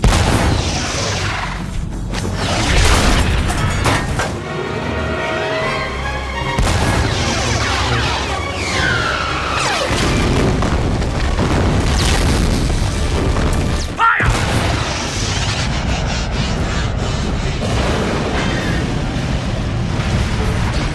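Artillery fires in a rapid series of loud, heavy booms and blasts that crowd together into a continuous barrage with scattered crashes and some voices mixed in.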